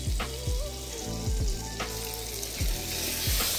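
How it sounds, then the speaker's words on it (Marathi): Spicy dry mutton masala with coconut paste and garlic sizzles and fries in a pan, a steady loud crackle broken by repeated scraping stirs of a spoon, no voices. "त्याला पुन्हा एकदा आपण फ्राय करून घेऊ प्रॉपर।"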